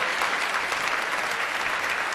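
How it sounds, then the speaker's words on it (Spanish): Large audience applauding at the opening of a world tango championship semifinal, a dense, even roar of clapping from a big crowd, loud and unbroken throughout. "Gracias por el aplauso."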